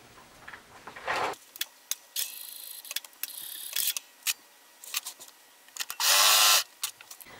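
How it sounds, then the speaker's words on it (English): A sewing machine sews a regular straight stitch at a 3 millimeter length on a t-shirt neckline, giving bursts of fast mechanical whirring and ticking separated by quiet pauses. "On the sewing machine, I'm using a 3 millimeter length"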